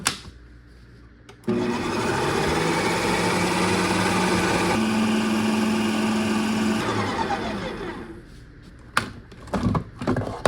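A Ninja Creami ice cream machine processes a frozen pint with a steady, loud motor whir that runs for several seconds and shifts in pitch midway, then stops, followed by a few clanks.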